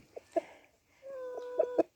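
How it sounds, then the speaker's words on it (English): Several short hen clucks and a drawn-out, wavering cackle from nearby chickens, fairly quiet with brief gaps between calls. "so lots of chickens"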